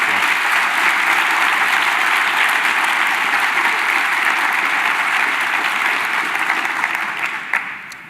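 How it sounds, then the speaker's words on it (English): An audience at an evening scholarship awards ceremony of the Ronald Reagan Presidential Foundation claps steadily and loudly for several seconds, then the applause tapers off toward the end. "We should applaud again for every one of the people that"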